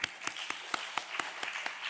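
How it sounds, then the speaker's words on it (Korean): A church congregation claps together in a steady, brisk rhythm, with about eight even beats over a soft, diffuse wash of applause in a large room. "하나님께 영광의 박수를"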